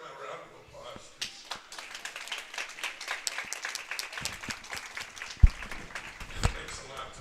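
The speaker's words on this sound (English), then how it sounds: "Let's give them a round of applause." Audience applause at a bowling league championship finals, scattered clapping that builds into a fuller round over several seconds, with a couple of sharper knocks and voices murmuring underneath.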